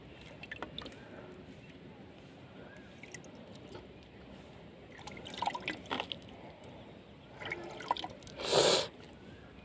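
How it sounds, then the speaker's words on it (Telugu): Water is poured onto freshly planted lavangam chikkudu bean seeds: soft trickles and drips over a quiet background, building to a couple of louder splashing pours near the middle and just before the end. "కొంచెం నీళ్ళు వేయాలి, వేస్తాను."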